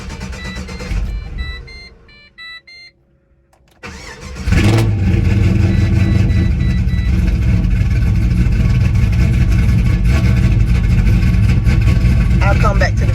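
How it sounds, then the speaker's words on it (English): A Pontiac GTO that has sat for over a week cranks and fires on a cold start, then settles into a loud, steady idle rumble close by, with brief quiet handling sounds before it catches. "I'm gonna start it up right now, let it warm up"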